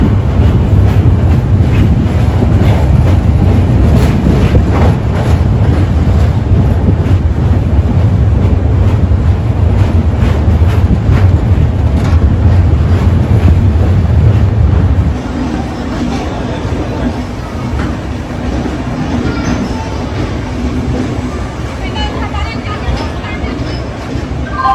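Loud, steady rumble and rail clatter inside a sleeper coach of the SMVT Bengaluru–Howrah Duronto Express while running, heard close up. The roar drops to a quieter level partway through.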